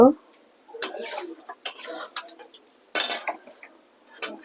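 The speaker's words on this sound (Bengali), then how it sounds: "গ্যাসের ফ্লেমটা একটু হালকা বাড়িয়ে দিয়েছি দেখো একটা কষাচ্ছি" Metal utensil stirring and scraping egg frying in a pan over a gas flame, in repeated bursts of clinks and scrapes with quiet gaps between, close and fairly loud.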